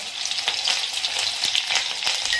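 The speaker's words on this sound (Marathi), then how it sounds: "10-12 कढीपत्त्याची पानं आहेत ते पानं टाकून घेऊयात" About ten to twelve curry leaves and two slit green chillies fry in hot oil, giving a close, steady, bright sizzle with small crackling pops throughout.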